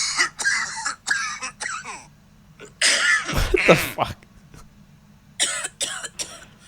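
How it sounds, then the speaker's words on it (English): A rapid series of harsh coughing sound effects played from a sound website, several bursts in quick succession with gaps between them; a person's short exclamation breaks in partway through. "This website has like 80 different coughs."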